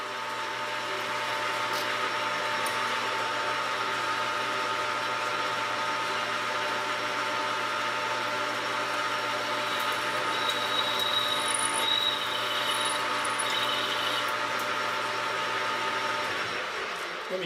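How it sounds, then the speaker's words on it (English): A metal lathe turns at about 350 RPM while cutting with a slow feed, producing a steady mechanical whine with a faint higher squeal during the cut. It keeps going evenly and stops near the end. "we're going to turn this at about 350, 360 RPM. And we're going to feed in slowly here."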